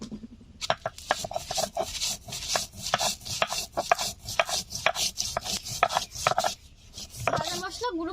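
Roasted whole spices, including cumin, are ground on a stone, with rapid scraping, knocking strokes in a steady rhythm, close and fairly loud, pausing briefly near the end before resuming.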